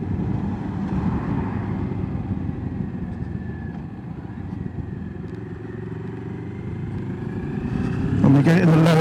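Moto Morini X-Cape 650 adventure motorcycle engine pulling in a lower gear, a steady rumbling drone with wind noise and rising intensity toward the end.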